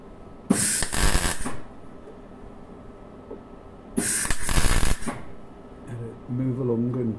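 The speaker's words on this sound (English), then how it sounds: "So we're going to do some welding." Short bursts of welding on a Land Rover Discovery 2 Td5 body, two loud crackling spells of a couple of seconds each, close up, with someone speaking briefly afterwards.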